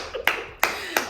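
Three crisp hand claps, close and fairly loud, spaced unevenly within a second, with faint background noise between them.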